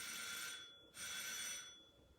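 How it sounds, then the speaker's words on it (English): A bell rings in two bright, shrill bursts separated by a brief gap, sounding telephone-like and moderately loud, then fading away, with no voices. "Why is the bell ringing?"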